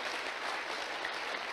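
Steady applause from an audience, a dense wash of many hands clapping at an even level throughout.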